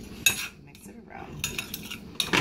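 A spoon clinks and scrapes against a bowl while stirring a lumpy brown sugar glaze mixture for pork chops, a few sharp metallic taps between softer scraping.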